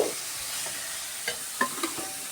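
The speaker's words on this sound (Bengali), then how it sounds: "এবার আলুটাও কষিয়ে নিচ্ছি এর সাথে, মশলার সাথে।" Potatoes stir-fried with spice masala for ghugni in a pan, a constant low sizzle broken by several distinct scraping stirs of a spatula near the end, no talking.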